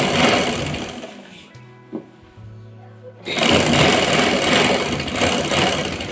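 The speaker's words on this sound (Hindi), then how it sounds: "अब मैं पूरी सिलाई लगा लेती हूँ। अब ये पूरी आसन में जोड़ूंगी।" An electric sewing machine running a salwar seam, a loud continuous buzzing whir that cuts out briefly for a second or so with small clicks and a hum, then starts stitching again at full speed.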